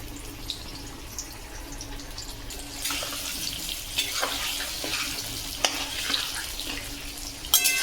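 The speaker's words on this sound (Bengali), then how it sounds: "অনুষ্ঠান বাড়ির মতো রান্না করছি বলে আমি আলুগুলো ভেজে নিচ্ছি" Potatoes fry in a pan with oil, a soft sizzle that grows louder partway through, with scattered crackles and a few sharp clinks.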